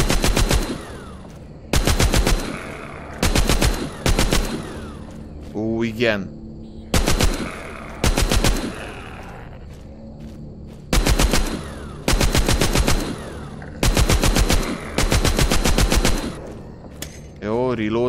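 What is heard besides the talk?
minigun firing at zombies in the video game The Walking Zombie 2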